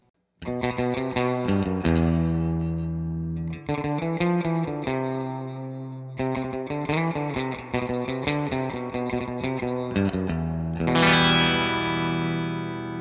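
A bright, twangy electric guitar plays chordal riffs through a Victory V40 Deluxe tube amp, with sustained ringing notes, separated by short gaps, ending in a shimmering strum.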